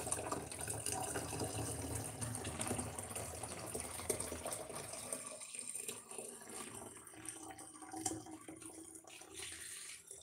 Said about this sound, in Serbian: Da sipamo mu vodicu.